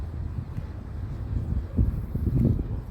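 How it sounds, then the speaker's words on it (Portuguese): Strong wind buffets the microphone outdoors at a drone flying site, making a loud, continuous low rumble that swells in gusts. "mesmo ventando bastante"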